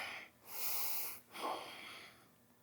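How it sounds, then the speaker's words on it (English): A long, breathy exhalation during a yoga flow in a low lunge, one soft airy rush of breath heard up close, followed by a second, shorter and fainter release of air. "Exhale."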